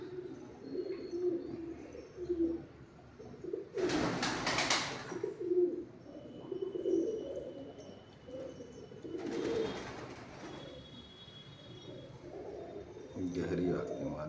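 Madrasi pigeons coo in low, soft, repeated murmurs close by, with a couple of brief noisy bursts between them and people talking quietly underneath.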